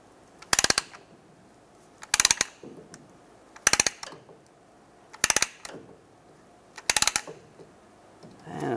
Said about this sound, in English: Slowly compress the caliper.